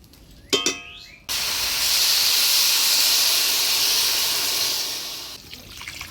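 Water goes into a pot of sautéed Gobindobhog rice for basanti polau, setting off a sudden loud, sustained hiss of steam that holds for several seconds and then eases, after a few brief clinks.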